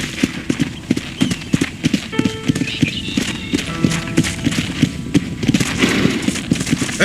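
Horse hooves clopping in a quick steady rhythm in the video game Red Dead Redemption, with a horse whinnying partway through and a voice briefly in the background.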